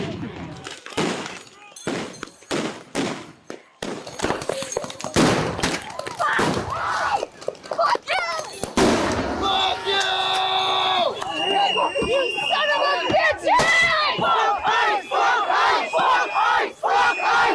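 Street protest with a crowd, sharp bursts of flashbangs and fireworks cracking in quick irregular succession, then a dense roar of shouting, whistles and bangs, loud and chaotic throughout.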